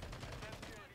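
Gunfire from an STG-44 rifle in Modern Warfare 3, a rapid, dense volley of shots filling the whole second at steady loudness, mixed with game sound and faint voice.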